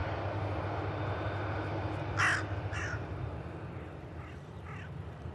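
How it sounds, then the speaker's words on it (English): A crow caws overhead near an airport runway, three or four harsh calls that start fairly clear and fade to fainter repeats, over a steady low rumble of aircraft and wind. "Crow overhead."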